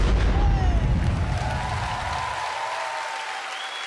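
Loud, dense applause from the audience at a KVN comedy show, a sustained wash of clapping that eases slightly as it continues.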